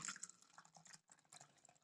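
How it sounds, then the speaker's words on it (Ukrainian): Water poured into an open Magio 750 ml thermos gives a soft, quiet trickle and splash that runs for under two seconds, with a brief pause partway through. "Наливаємо воду."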